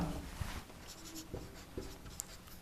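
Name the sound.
writing with a pen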